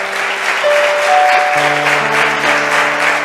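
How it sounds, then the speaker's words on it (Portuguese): Church congregation breaks into loud, steady applause during a sermon, dense clapping filling the whole stretch with sustained musical tones from an instrument underneath. "Então dá um aplauso a ele, que ele merece."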